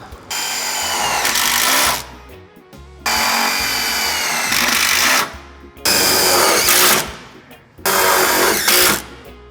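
A power drill drives self-tapping screws into a Mercedes Sprinter van while side steps are fitted: four loud, sustained whirring bursts of about two seconds each, with short pauses between, close up.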